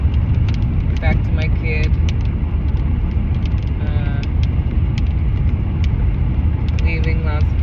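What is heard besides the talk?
car driving, heard from inside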